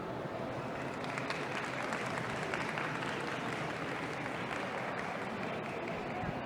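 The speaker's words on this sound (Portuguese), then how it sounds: "Uma salva de palmas," An audience applauds a speaker named Leila at a business talk, a steady dense wash of clapping that holds at even strength throughout without letting up.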